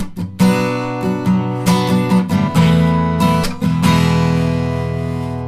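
Chords strummed on an acoustic guitar for the bridge of a song, close and bright, in a rhythmic pattern that settles on a long ringing chord at the end.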